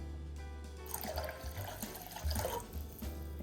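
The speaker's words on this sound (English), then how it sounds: "let me add some water" Tap water pours steadily into a cooking pot being filled for two servings in a home kitchen, a continuous close splashing rush that shifts slightly in pitch as the level rises.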